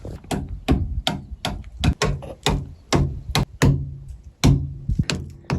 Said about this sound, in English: Don't use that great big hammer.